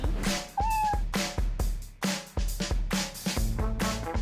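A cat meows repeatedly in short, close, fairly loud calls spaced through the moment, with a few drawn-out tonal cries among them; no one speaks.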